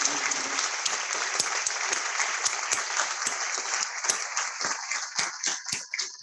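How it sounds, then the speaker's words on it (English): A room of students applauds after a talk, with steady, fairly close clapping from a modest crowd. Distinct individual claps stand out toward the end as the applause thins. "so you have to applaud if you like"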